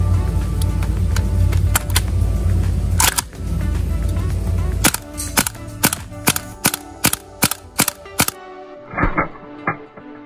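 A WE gas blowback AK74 airsoft rifle fires full auto with a loud hissing mechanical rattle, then pauses and fires a series of sharp individual cracks, before a few fainter clicks at the end.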